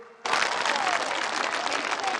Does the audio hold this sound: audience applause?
yes